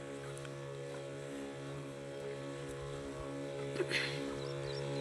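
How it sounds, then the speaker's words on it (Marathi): Battery-powered sprayer pump running steadily in a soybean field while insecticide is sprayed, a constant close motor hum with harmonic drone and light rustling noise throughout. "आणि आपण बॅटरीच्या पंपाच्या सहाय्याने फवारणी करतोय"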